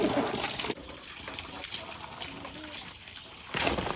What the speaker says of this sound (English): drinking out of the water hose